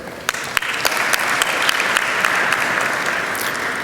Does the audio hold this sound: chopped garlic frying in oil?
no